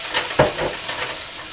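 Flour being stirred into a melted mixture in a cooking pan for creamy dill potatoes makes a few close scrapes and clinks of utensil on pan over a faint sizzle.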